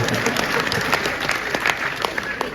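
Applause at a Hindi comic poetry recital: a lively crowd claps steadily and densely, with a few sharper individual claps standing out over the steady wash of sound.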